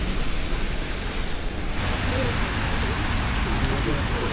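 Steady rain falls in a village in Japan, a dense, even hiss of drops on surfaces that stays loud and continuous throughout.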